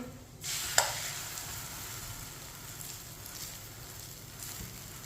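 A paratha fries on a hot pan with a steady, crackling sizzle that rises sharply as it is laid down, with a brief clink, then settles into an even, close hiss.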